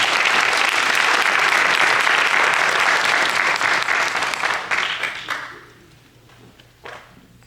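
Loud round of applause from a graduation ceremony audience for an ombudsman graduate, dense clapping that holds steady, then thins into a few scattered claps and dies away into near silence.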